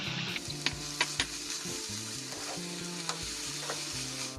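Watermelon peel frying with sugarcane jaggery, a constant close sizzle broken by repeated scraping strokes of a spatula and a few sharp taps against the pan, no talking.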